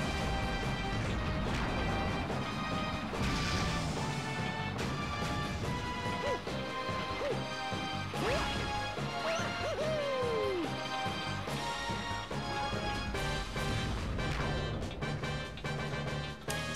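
Crashing and smashing hits as a cage is broken apart during the Megaleg boss fight in Super Mario Galaxy, set against dense, loud game music and sound effects, with sliding effect tones.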